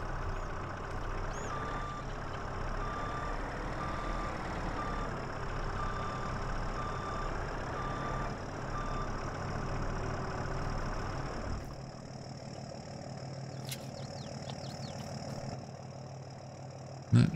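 Skid steer in a farming video game, its engine idling steadily with a regular reversing beep repeating for about ten seconds before the engine drops lower and the beeping stops.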